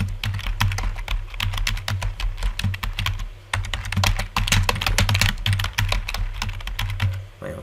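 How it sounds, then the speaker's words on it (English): Rapid typing on a computer keyboard, dense irregular key clatter running steadily throughout, close and fairly loud, with no voices. "I'm going to type in"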